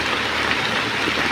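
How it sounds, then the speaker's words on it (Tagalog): Steady rain falling outdoors near dusk in a street-vending area, a dense even hiss of drops on surfaces without pause, fairly loud and close, no talking. "Iabot na naman tayo ng ulan dito sa lugar po na ito."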